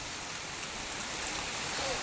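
Rain falls steadily in a dense, even patter that stays uniform and fairly loud throughout.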